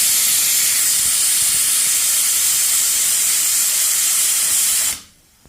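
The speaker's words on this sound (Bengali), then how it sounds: "আর ততক্ষণে সিটিও উঠে গেছে।" A pressure cooker cooking bitter gourd lets out its whistle as a loud, continuous jet of hissing steam, holding steady for about five seconds before cutting off abruptly.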